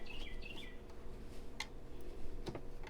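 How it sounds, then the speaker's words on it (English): Birds chirp in short high bursts, a few calls scattered over a steady low background hum from a machine embroidery session indoors, moderately close and not loud. "You hear the birds?"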